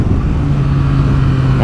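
A motorcycle engine drones steadily while riding along a road, a loud, constant low hum with rushing wind noise and no voices.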